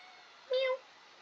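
A single cat meow, drawn out for about a quarter second, rises clearly over a quiet background, close and fairly loud, with no talk around it.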